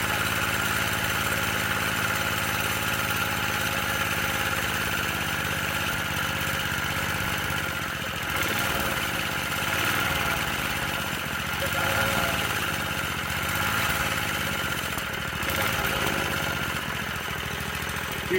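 A small single-cylinder engine on a Manco mini bike, running for the first time after sitting two years, idles in a steady, slightly rough putter, loud and close, with minor surges in speed and no talking.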